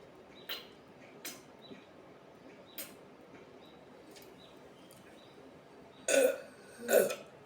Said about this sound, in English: My burps are too small to like say anything.